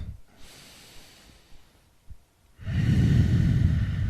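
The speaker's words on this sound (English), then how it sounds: "make your breathing nice and long" A person takes slow, deep breaths during a yoga stretch: soft nasal inhales and faint hisses at first, then a long, loud, close exhale in the final second and a half, with no speech.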